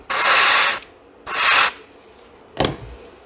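Airbrush spraying a coat of iridescent yellow paint onto a handmade 12-inch glide bait lure, two loud close bursts of steady hiss followed by a shorter spurt, no talk.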